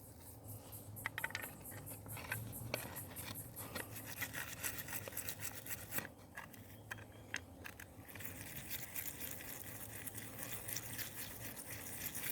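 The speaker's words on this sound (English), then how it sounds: "I'll grab the toothbrush." A toothbrush scrubbing dirty gold nuggets clean, quick rhythmic bristly scraping strokes in close bursts, fairly quiet and without talk.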